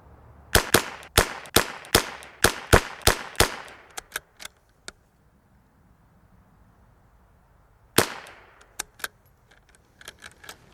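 Ruger Precision Rimfire rifle firing ten sharp rimfire shots in a quick, even string, then a pause before a few more scattered cracks, each shot loud and clipped with little echo.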